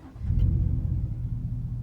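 A truck engine fitted with a Flowmaster Outlaw exhaust starts up, giving a brief deep low rumble that swells and then settles into a steady idle, close by with no talk.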